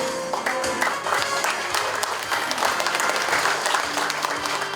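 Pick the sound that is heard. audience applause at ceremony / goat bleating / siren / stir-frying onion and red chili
audience applause at ceremony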